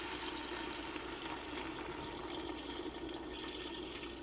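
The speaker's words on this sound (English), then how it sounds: "So now I'm gonna add the water" Steady rushing flow of water poured into a cooking pot of rice and beef before pressure cooking, continuous and fairly loud throughout.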